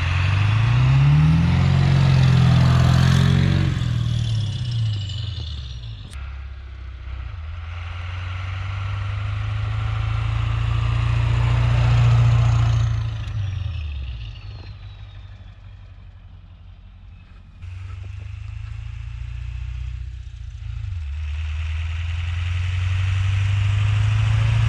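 A truck engine idles and revs in the snow, a deep low rumble that rises and falls in long surges, loud and close, with no talking.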